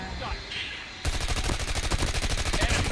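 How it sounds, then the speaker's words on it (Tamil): Gunfire in the Call of Duty Mobile video game: after a quieter second of game ambience, a loud, rapid automatic burst rattles on steadily for the rest of the clip. "சுடுற சத்தம் கேட்குது"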